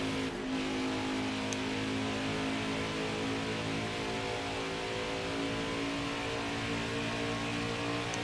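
A race car engine in the video game NASCAR Heat 5 roars steadily at Homestead-Miami Speedway, a sustained, loud, high-revving drone with a brief shift in pitch near the start.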